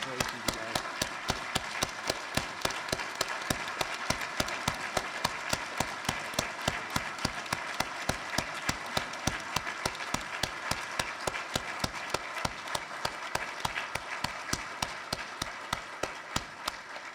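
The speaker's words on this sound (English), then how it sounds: "Fellow Rotarians, please join me in recognizing these outstanding young adults with another round of applause." Audience at a Rotary luncheon clapping in a steady, evenly spaced rhythm, a sustained round of applause that stays moderately loud throughout the room.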